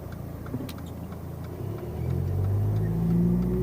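A car engine idling in neutral, then revving and rising in pitch as the driver gives throttle and releases the clutch with the car staying put; a steady close hum that swells louder in the second half, with no talk.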